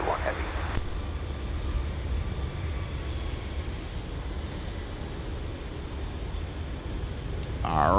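A Delta heavy jet takes off from runway 12 right at wintry MSP airport, its engines a steady loud broadband roar that holds throughout and swells near the end, with radio-style voices briefly heard at the start and finish.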